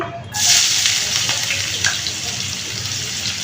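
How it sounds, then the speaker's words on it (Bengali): Chopped onion, about a cup, dropped into hot oil in a pan while cooking rohu fish bhuna: a sudden loud sizzle that settles into a steady crackling hiss. "তেলটা গরম হয়েছে এখন আমি পেঁয়াজ কুচি দিয়ে দিচ্ছি"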